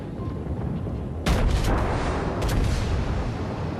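Warship shell fire aimed at a battleship in World of Warships, a sudden deep booming salvo followed by a second blast over a constant roar of sea and engines.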